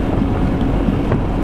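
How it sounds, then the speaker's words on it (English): Strong wind buffeting the microphone during a scooter ride on twisty Old Route 66, a loud continuous roaring rush with no other sound. "Whoa, that was wind."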